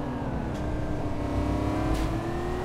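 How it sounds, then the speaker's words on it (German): A Lamborghini Reventon engine revs up steadily in the City Car Driving game, a loud, continuous rising drone with a long climbing pitch, close and alone with no talking. "Und wir geben mal Gas."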